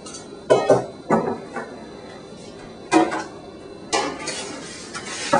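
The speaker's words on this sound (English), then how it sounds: "And I'm going to need a cookie sheet." A metal cookie sheet clanks and rattles in a kitchen in several sharp bursts spread across a few seconds, close and moderately loud, with quiet pauses between handling knocks.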